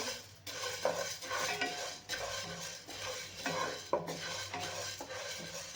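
Sorghum grains being stirred in a hot kadhai while being puffed, with a steady scraping rattle of grains and utensil against the pan and brief clinks throughout, close and continuous with no voices.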